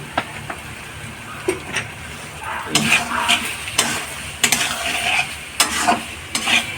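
Dal in a pot with a little raw oil drizzled on top, heard as a sizzle under repeated stirring and scraping strokes at an uneven rhythm, moderately close, with no talking.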